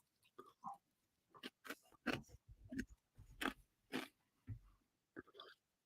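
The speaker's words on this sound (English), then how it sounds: "I'm really sorry if this is me crunching too loud" Close-up crunching and chewing of dinner right beside a microphone, a run of separate crisp bites with short pauses, fairly quiet overall with no talking.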